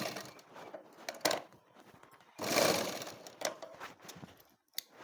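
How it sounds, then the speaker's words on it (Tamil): Sewing machine putting a running stitch into folded cloth, stitched in short bursts of motor whirring with quiet pauses between them, plus one louder, longer run in the middle. "இந்த இடத்துல அப்படியே படிமான தையல் போட்டு அப்படியே மடக்கி வைக்கிறதுக்காக படிமான தையல் போட்டுக்குவோம்"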